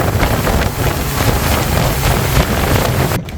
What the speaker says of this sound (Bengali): আমাদের নৌকাটা চলে আসছে বাকি দুইটা আসতেছে